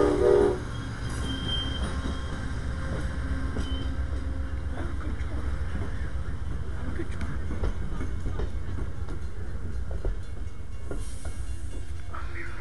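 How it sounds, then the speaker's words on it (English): A passing train rumbles and clatters steadily close by, with rolling wheel noise and a faint squeal near the end, and brief voices talking early on. "Hear the train? Hear it?"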